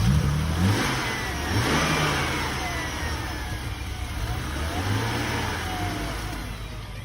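A car's engine at an outdoor police towing auction fires up and runs close by, rising and falling through several revs over a steady rough drone.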